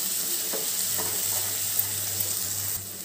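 Chopped tomatoes frying over a high flame for chicken biryani, giving a steady close sizzle with faint stirring clinks throughout, no voices.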